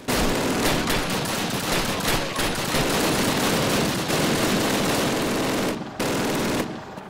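Rapid bursts of machine-gun and rifle fire in the World War II shooter Call of Duty 2, dense and loud throughout with brief gaps near the end.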